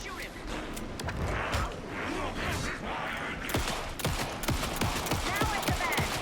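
Gunshots in the horror video game Alan Wake 2, a rapid run of sharp, loud shots and bursts over tense game ambience, with voices speaking throughout.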